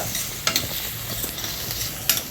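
Chopped onion frying in a pan with salt for dal khichdi, a steady soft sizzle with a few brief scraping stirs, close and alone.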